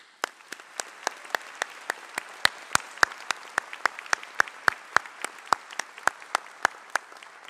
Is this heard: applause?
yes